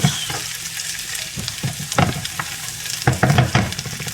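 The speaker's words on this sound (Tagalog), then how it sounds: "Saka natin ibabalik ngayon yung ating tofu nung medyo mabango na yung ating bawang at sibuyas." Tofu fries with garlic and onion in a pan, giving a continuous close sizzle and sputter broken by repeated stirring scrapes at an uneven pace, with no voices.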